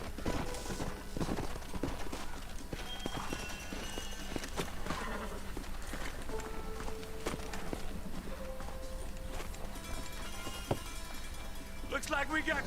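Horse hooves clip-clop in Red Dead Redemption, a quick, continuous patter of several horses running, with game voices and effects layered over it.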